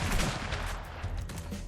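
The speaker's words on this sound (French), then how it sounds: "il utilise une mitrailleuse avec un bouclier à la main" Dense, continuous automatic gunfire from a machine gun in the Fallout: The Frontier video game, a loud steady rattle with no speech over it.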